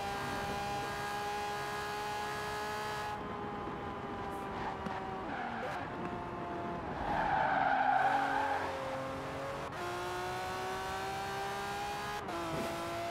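A Lamborghini Murcielago LP670-4 SV in Forza Horizon 4 holds a loud, steady engine drone with tire squeal and skidding, the pitch dipping and climbing through gear changes as it accelerates.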